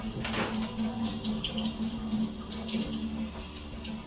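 Tap water runs steadily into a kitchen sink while something is rinsed out, a continuous moderate splashing that lasts the whole few seconds with no talking.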